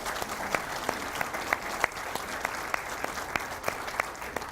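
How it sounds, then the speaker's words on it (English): Audience applause at a president's remarks event, steady dense clapping throughout with a few sharper individual claps standing out, moderately distant and alone without talk. "why don't we have all those people on the board just stand up and give them a round of applause"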